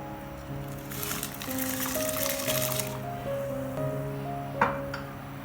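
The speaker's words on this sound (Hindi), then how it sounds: "अब हम इसमें चावल डाल देंगे।" Rice is poured into a pot of boiling water while making vegetable fried rice, a soft rushing, hissing pour lasting about two seconds under steady background music.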